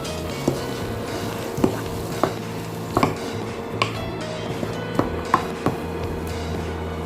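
Potatoes are stirred in a pan with turmeric, coriander and chilli powder, giving regular metallic clinks and scrapes of a spoon against the pan over a low background hiss, close by with no talk.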